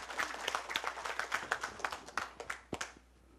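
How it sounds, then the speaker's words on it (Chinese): Fairly quiet applause from an audience at a Buddhist forum welcoming monks, with distinct individual claps forming a loose, uneven patter that stops abruptly just before the end. "我们热烈的鼓掌哦"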